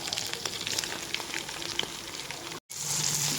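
Chopped tomatoes hit onions frying in oil and sizzle steadily with a busy crackle. A brief dropout interrupts the sound before the sizzling returns fuller.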